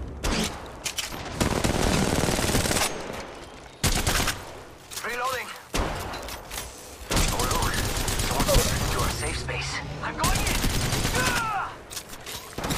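Rapid gunfire bursts from the game Apex Legends, loud stretches of automatic fire broken by short pauses, with voice lines heard between the volleys.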